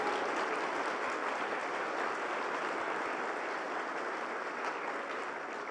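A church congregation applauds steadily during a worship service, a dense, even wash of many hands clapping at moderate distance that holds for several seconds with no voices over it.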